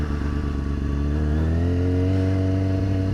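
A motorcycle in a parking lot revving for a clutch up, the engine loud and close, pitch climbing steadily through the second half into a sustained high rev.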